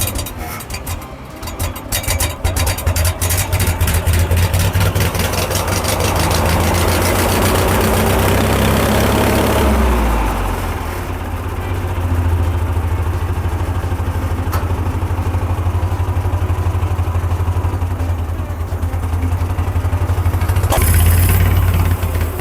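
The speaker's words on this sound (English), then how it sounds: "now it's time to see if this thing will fire up" An old tractor engine, abandoned for 30 years, cranks and catches, then runs at a loud, close, rough idle with a steady low throb and some knocking, revving briefly near the end.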